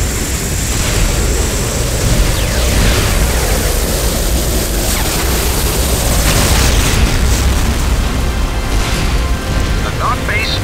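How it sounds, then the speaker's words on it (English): An ion cannon strike in Command & Conquer: Renegade: a continuous, roaring wash of explosive noise rumbles steadily throughout, loud and dense like a sustained blast, with no distinct pauses. "Prepare for ion cannon strike."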